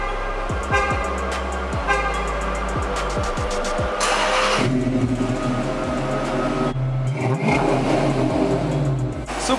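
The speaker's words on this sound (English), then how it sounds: "I'm about to go ahead and get our cold start real quick." A car engine cold-starts, cranking briefly before catching and revving up to a loud, steady fast idle, close by, with no talking.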